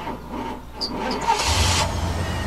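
Dad's dead car in Life is Strange: Before the Storm, with busted spark plugs and carbon deposits, as its engine cranks and catches into a steady rumble, close and fairly loud, with no talk.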